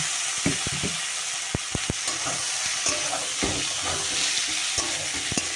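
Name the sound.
vegetables added to frying onions in pan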